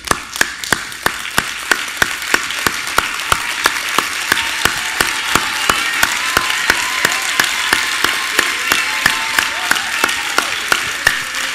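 Rhythmic clapping from a church crowd giving a standing ovation, steady and fairly loud, with evenly spaced sharp claps over a dense wash of applause, no voices standing out.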